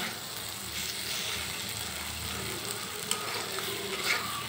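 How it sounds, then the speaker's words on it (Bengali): Water spinach (kalmi shak) fries in a pan with onion and green chilli, giving a steady, close sizzle throughout. Light stirring and scraping rise over it now and then. "পেঁয়াজ কাঁচা লঙ্কা দিয়ে কলমি শাক ভাজা আমার হয়ে গেছে"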